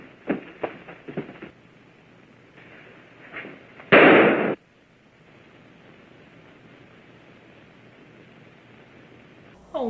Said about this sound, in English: the gunshot popped her zit!